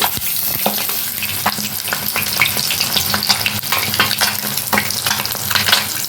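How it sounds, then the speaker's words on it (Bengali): Oil sizzles and crackles steadily as eggs fry, with scattered sharp pops and the occasional scrape of stirring close by. "তেল গরম হয়ে গেছে, এখন আমি ডিমগুলোকে ভেজে নেব।"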